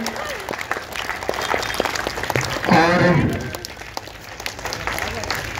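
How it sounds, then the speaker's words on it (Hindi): An audience at a DAV Arwal school gathering claps to welcome a guest, with a brief swell of applause in the middle under a speaker's amplified voice. "आप जोरदार ताली बजा करके बदन चौधरी जी का आप सभी स्वागत करें"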